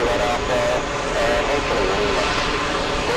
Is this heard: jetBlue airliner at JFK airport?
yes